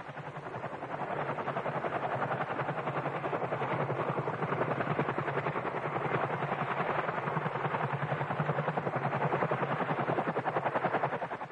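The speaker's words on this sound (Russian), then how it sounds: "Ми был первым в мире вертолетом серийного производства, оснащенным двумя турбовальными двигателями." An Mi twin-turbine helicopter drones with a steady, rapid rotor chop and turbine whine, continuous and even in loudness throughout, with no voices.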